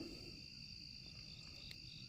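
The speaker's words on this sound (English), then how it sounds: "There's too many crickets here at night." Crickets chirp at night outdoors, a faint steady high-pitched trilling chorus that continues throughout without other sounds.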